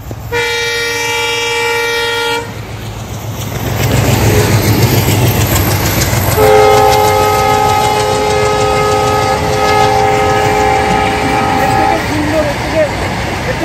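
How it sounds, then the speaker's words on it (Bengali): A passenger train passing near a highway tea stall beside paddy fields, opening with a loud sustained horn blast, then a rising rumble and clatter of wagons as a second long horn sounds, close and loud over background voices. "ট্রিপল সি ট্রেন আসছে।"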